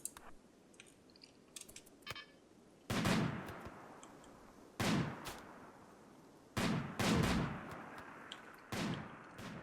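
Gunfire bursts from a RimWorld colony fight, four loud sharp volleys spaced a couple of seconds apart after quieter scattered clicks and ambient game sounds.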